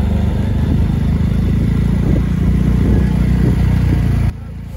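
A motorcycle engine runs steadily and loudly through a ride, a continuous low drone with some road rumble, before it cuts out abruptly near the end.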